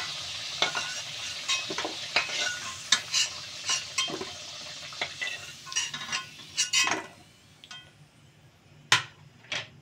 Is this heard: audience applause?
no